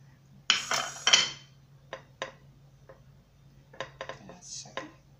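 A metal spoon clinks against dishes while scooping barbe for a salad: several sharp taps close together, then more scattered clinks, over a faint steady hum.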